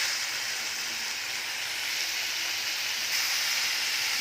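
Eggplant pieces go into spices frying in a hot pan, producing a steady, loud, hissing sizzle that brightens slightly partway through, with no voices.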